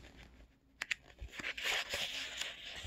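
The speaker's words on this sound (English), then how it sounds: "Turning the page, and I went too far." A book page is turned with soft papery rustling and crinkling, a few quick flicks followed by a longer sweep, quiet and close.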